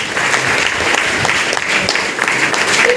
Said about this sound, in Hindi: तो मैं चाहूँगा प्रेमशीला के लिए एक जोरदार ताली हो जाए।